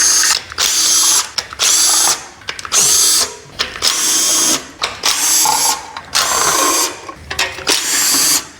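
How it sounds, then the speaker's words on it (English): Bursts of a power tool, drill or impact driver, spinning out the 10 mm valve cover bolts on a Ford Ranger 4.0 OHV engine, about eight loud whirring runs separated by short pauses, close up with no talk. "So first thing we're gonna remove is the valve covers."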